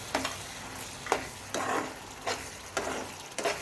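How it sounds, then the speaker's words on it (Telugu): Coriander powder stirred into an onion curry in a pan, a spoon making repeated rhythmic scraping sweeps over a soft, steady sizzle, heard close. "ధనియా పౌడర్ కూడా వేసి బాగా కలుపుకోండి"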